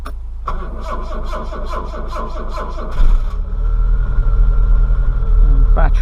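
A Rover P6 car that has sat unused for a while, its starter cranking rhythmically against a weak battery before the engine catches and settles into a loud, steady, rumbling idle up close.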